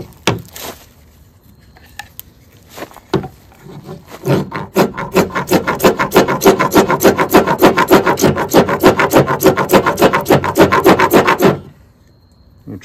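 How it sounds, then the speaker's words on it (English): A Mora Companion stainless knife scraping fatwood gives a loud, close run of rapid rasping strokes in a steady rhythm after a few sparse scrapes, then stops abruptly, with no talk. "let's see if we can scrape some fatwood."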